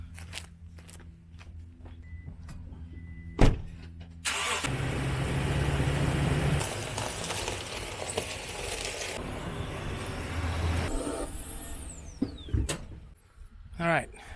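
A truck engine turns over and runs close by, idling and revving through most of the stretch, with clunks and a door thud before and after and a person speaking briefly.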